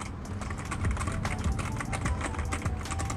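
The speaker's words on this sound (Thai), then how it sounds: "เลดสวิตช์นะครับผมชอบเงียบๆไม่ค่อยชอบดังก็เลยเลือกเลดสวิตช ์มานี้นะครับก็มีเสียงเล็กน้อยแต่ก็ไม่ได้แบบ แก๊กๆๆๆๆอะไรขนาดนั้น" Rapid, continuous typing on a NUBWO X28 Sorcerer gaming keyboard with red switches gives a dense patter of soft, close key clacks with no talking.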